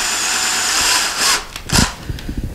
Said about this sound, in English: put your drill on it, and drill very, very slowly